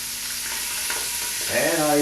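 Homemade sausage dropped into a pan for tomato sauce, a steady loud sizzle of frying that swells as the meat hits the hot oil, with stirring scrapes toward the end.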